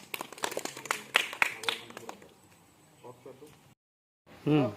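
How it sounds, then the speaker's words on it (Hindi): Several children clap in a short, uneven burst, with voices mixed in, before things fall quiet. "जरा अपने लिए ताली बजा लो।"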